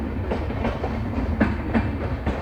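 Wheels of the Marudhar Express, an LHB-coach Varanasi–Jodhpur train, clack over rail joints in a loud, rhythmic clickety-clack as it departs Jaipur Junction, with a low rumble under the beats.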